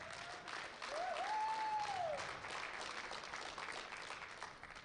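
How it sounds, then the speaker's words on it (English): Applause from a crowd at a national powerlifting championship for a bronze medal winner, steady clapping that swells and holds, with a brief whistle-like tone near the start. "Big round of applause for Kurt St. Romain."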